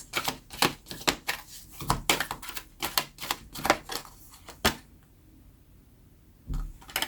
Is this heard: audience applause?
no